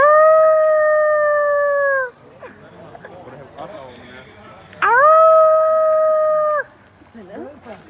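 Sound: wolf howling at zoo

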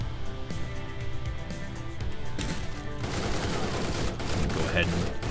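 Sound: gunfire in the video game Door Kickers: Action Squad

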